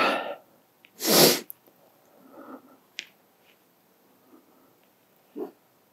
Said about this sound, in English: listen to the pug bark